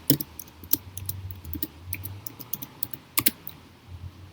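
Typing on a computer keyboard to enter a retail store's name, crisp irregular keystrokes in short bursts with brief pauses, close and clear in a quiet room.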